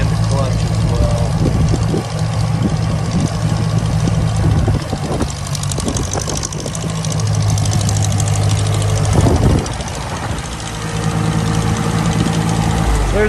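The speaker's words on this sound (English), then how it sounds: "There's the demo, guys, on a Case 311B tractor." A 1959 J I Case 311B tractor engine runs at a steady idle with a low, even chug, pulsing slightly as it continues loud and close throughout.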